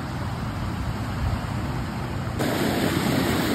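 Ocean waves wash onto the beach at San Felipe, Zambales, a steady broadband roar mixed with wind buffeting the microphone, swelling louder in the last second.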